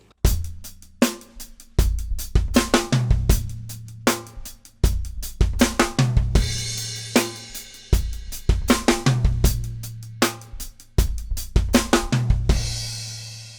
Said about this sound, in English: we can also add a kick drum at the end of that bar